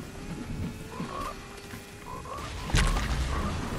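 A frog croaks repeatedly in a video game jungle, short throaty calls set against steady ambient game noise, with a heavy thud near the end.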